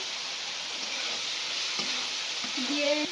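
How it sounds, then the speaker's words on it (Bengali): Cauliflower fries lightly in a pan with a soft, even sizzle that stays close and constant, while faint tonal squeaks from stirring come in toward the end. "আমার এখানে ফুলকপিটা হালকা হালকা করে ভাজা হচ্ছে"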